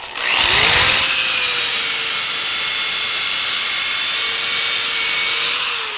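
A variable-speed power tool with a wire brush scrubs surface rust off metal, spinning up quickly into a loud, steady whine with grinding hiss that holds for several seconds at close range.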